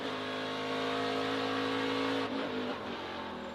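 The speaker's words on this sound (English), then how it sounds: "Right when you want to push on the brake zone, you'll hear the truck jump." A NASCAR Truck Series race truck at Circuit of the Americas brakes hard into turn 1, its loud, harmonic engine drone cutting off abruptly into choppy, stuttering bursts as the truck jumps in the brake zone.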